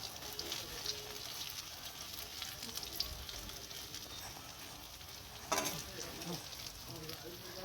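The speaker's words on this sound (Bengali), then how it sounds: "আস্তে আস্তে সব বড়া ভাজা হয়ে গেলো" Bora fritters sizzle and crackle steadily in hot oil, with a continuous frying hiss, occasional stirring clatter and one brief louder burst partway through.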